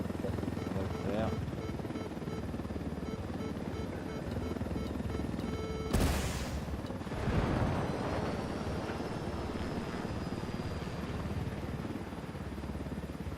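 A helicopter in the video game Ghost Recon Wildlands drones steadily at moderate volume under speech, with a sharp burst of gunfire or an explosion near the midpoint followed by rumbling.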